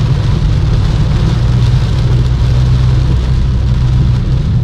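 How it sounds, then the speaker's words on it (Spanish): Rain heard from inside a moving BMW in tropical Colombia, a loud, steady low road rumble with a constant wash of rain noise over it, no talking. "Por acá está medio bajando la lluvia"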